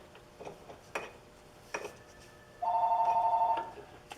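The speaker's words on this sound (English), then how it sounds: "And answer that phone." An old-style telephone rings in a workshop beside a drill press, its bell sounding in a few faint bursts and then one steady ring of about a second, moderately loud above low room noise.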